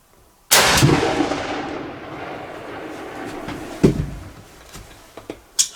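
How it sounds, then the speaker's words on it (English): A hunting gun fires one loud close shot in an outdoor deer-hunting setting, the sharp blast followed by a long rolling echo that fades over several seconds, with a few faint clicks and knocks afterward. "let's try let's try one more shot here"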